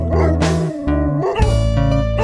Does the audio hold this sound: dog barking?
yes